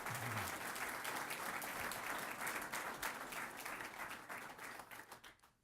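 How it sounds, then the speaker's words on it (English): A crowd applauds at a mayoral campaign announcement speech in Providence, with sustained dense clapping that stays loud throughout and begins to thin toward the end. "So I want to give another round of applause."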